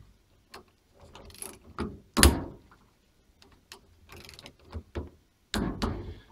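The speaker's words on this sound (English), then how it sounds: "we're going to break in the threads on the receiver and the barrel nut by torquing again to 30 pounds two more times" A torque wrench tightens a rifle barrel nut onto its receiver to 30 pounds, heard as scattered mechanical clicks and light clunks, with one sharp, loud click midway and another firm clack near the end, all close by.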